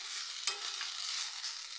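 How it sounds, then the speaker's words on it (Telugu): Okra frying in a pan, a soft continuous sizzle with a stirring scrape near the start, quiet and close with no talking. "బెండకాయ ఫ్రై చేస్తున్నాను"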